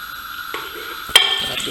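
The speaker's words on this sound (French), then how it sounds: "verser de l'huile de palme" Palm oil hits a hot pan with a sharp hiss that settles into steady sizzling, close and loud, with a brief clatter partway through.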